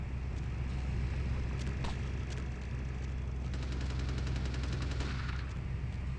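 Gunfire from the 2004 PC action RPG Vampire: The Masquerade – Bloodlines, a few sharp shots cutting through a steady, dense background din, fairly loud and without speech.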